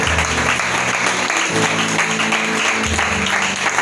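A church congregation claps loudly and continuously in a dense, sustained wave of applause that fills the room.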